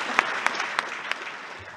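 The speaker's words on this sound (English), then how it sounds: "Come on, round of applause for that as well." Sparse applause from a conference audience at closing remarks for a cloud-native event, a handful of separate claps over a soft room murmur, brief and fairly quiet.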